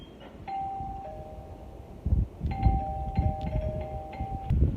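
A replacement doorbell button completes the wiring circuit, setting off a doorbell inside the house. It sounds as a sustained electronic chime tone that changes pitch, then starts again a moment later and holds for a couple of seconds over low room noise.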